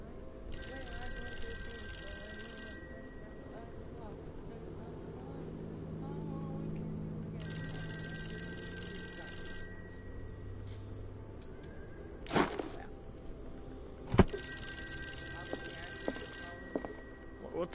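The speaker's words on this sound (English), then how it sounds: "What's the phone?" An old-fashioned telephone bell in the Call of Cthulhu video game rings in three long bursts over a low background rumble, with a couple of sharp knocks between rings.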